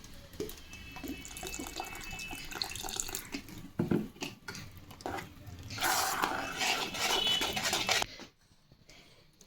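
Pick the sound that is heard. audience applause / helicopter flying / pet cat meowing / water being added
water being added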